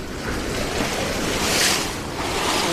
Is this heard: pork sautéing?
no